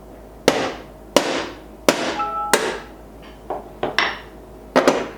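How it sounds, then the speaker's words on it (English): A hammer drives a nail through the lid of a tin to punch a single hole, giving about seven sharp metallic knocks at uneven intervals, each ringing briefly, close and loud with no talking. "we're going to take our nail and our hammer, and we're going to just puncture one nail hole into the center on the top."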